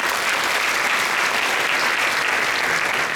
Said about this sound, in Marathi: त्यामुळे या शिक्षकांसाठी जोरदार टाळ्या द्यायला पाहिजे